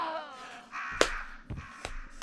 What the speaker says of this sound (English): I was killed by a crow!